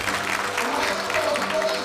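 Lecture-hall audience clapping, a dense burst of applause that stays strong through the short moment, with a voice faintly mixed in beneath.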